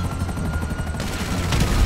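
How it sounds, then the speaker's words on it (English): Rapid bursts of explosive-round gunfire in a video game, a dense crackling fusillade with booming low-end thumps and a faint helicopter-like drone, growing louder toward the end. "Oh, the dude has explosive rounds."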